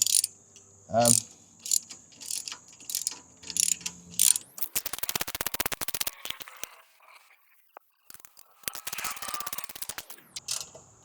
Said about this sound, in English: Now I will just tighten with a 15mm wrench, getting them tight